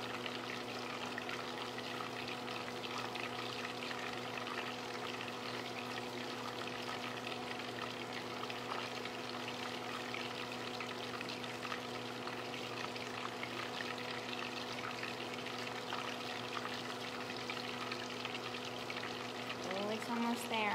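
Butter browns in a pan for brown butter blondies with a soft, quiet, continuous sizzle and light bubbling, heard up close at low level with a steady low hum behind it and no talk.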